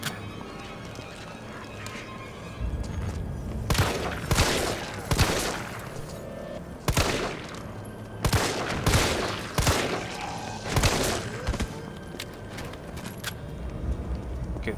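Gunshots in Resident Evil 3 Remake: a series of loud, sharp bangs spaced irregularly over a steady background, some in quick pairs, with no talking.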